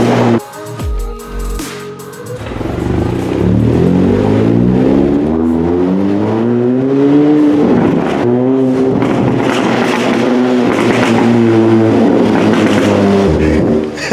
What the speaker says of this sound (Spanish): Si le doy hasta las 6000, le suelto a truenar más duro.